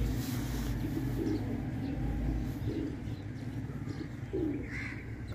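A pure white pigeon with a black tail coos in soft repeated phrases over a low outdoor background hum in a garden gone wild, no voices.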